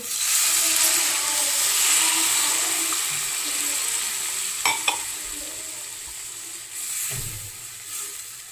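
Water poured into a hot pan for a Kerala fish head curry, giving a steady sizzling hiss that fades slowly, with a couple of sharp clinks midway.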